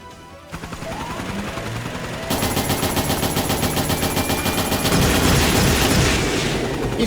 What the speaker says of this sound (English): He's firing missiles